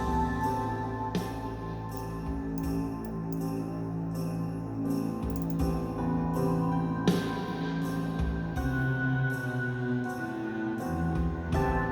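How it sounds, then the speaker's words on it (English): Harps strum and pluck chords in a steady rhythm, layered with a fuller sustained backing that keeps a moderate level throughout. "The harps are just playing the same chords"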